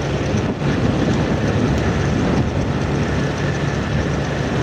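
A Honda Vario scooter in motion gives off a loud, continuous ride noise with wind rush and faint rattling creaks from a loose phone holder on the handlebar, steady throughout without speech.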